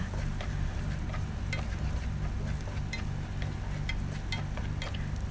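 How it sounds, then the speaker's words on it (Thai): Minced garlic fries in hot oil with a loud, steady sizzle, close up, as sauce for rad na is begun, with faint crackles and light scraping on top and no voices. "เจียวกระเทียมให้เขาหอมเหลืองเลยนะคะ"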